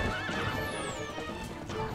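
A horse in The Legend of Zelda: Twilight Princess neighs loudly over clip-clopping hooves, amid busy game noise and a falling whistle.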